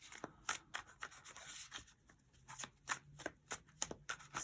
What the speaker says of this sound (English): So let's just do a quick shuffle.